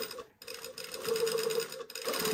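A sewing machine stitches knit tape along a thicker serged edge with a rapid, close mechanical whir that breaks off briefly twice in short pauses before running on, with no talk.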